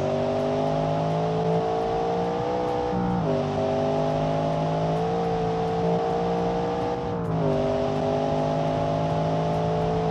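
A car driven hard in the BeamNG driving game, a steady engine drone with tonal whine that dips and rises through gear shifts, continuous and loud with no voices.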